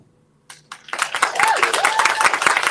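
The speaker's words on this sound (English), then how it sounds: "Let's give Zella a big round of applause" An audience at a children's pageant breaks into applause for a contestant, scattered claps building quickly into dense, sustained clapping, with a voice speaking over it.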